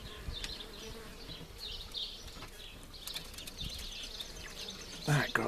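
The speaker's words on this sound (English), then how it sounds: "Got some bees coming out to check me." Honey bees buzz around an opened top bar hive outdoors, a steady close drone with individual bees swelling louder as they fly past, plus faint rustling.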